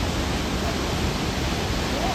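A river coming down from Kedarnath in Uttarakhand rushes with a loud, even, unbroken roar of fast water heard close at hand.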